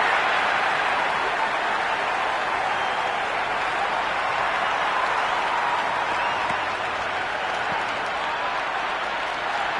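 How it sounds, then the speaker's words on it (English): Cricket stadium crowd cheering from the stands, a loud, continuous roar of clapping and voices that stays steady throughout. "There's a buzz, a real buzz coming from the stands."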